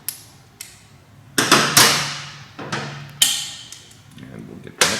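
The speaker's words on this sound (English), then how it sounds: "Now we're ready to go ahead and snug up our mounting brackets" Metal wrench work on the exhaust mounting brackets of a 2015-2017 Yamaha R3 with a carbon slip-on exhaust: a series of sharp, close metallic clanks and clicks at uneven intervals, each ringing briefly.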